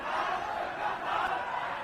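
A crowd in Hong Kong shouting abuse and curses, a dense continuous roar of many angry voices at steady loudness, near and filling the whole moment without pause.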